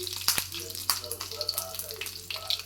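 Green chillies spit and crackle in hot tempering oil, close bursts of sizzling pops and splutters in an irregular run.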